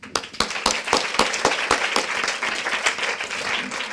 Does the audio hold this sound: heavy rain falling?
no